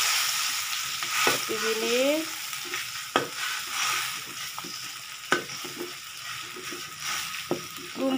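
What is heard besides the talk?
stirring seblak spice paste cooking in a pan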